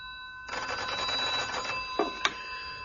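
An old-style telephone bell rings in a radio drama, a steady trilling ring lasting over a second, followed by a couple of short clicks as it stops, with no talking.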